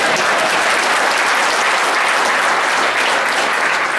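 An audience clapping during a political talk, a loud unbroken wash of applause throughout, with no voices over it.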